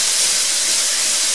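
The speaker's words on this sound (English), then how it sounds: "once these are really having a good sizzle away" Bacon sizzles loudly in a pan while cooking for a leek and bacon quiche, a dense steady hissing crackle close up, alone without talk.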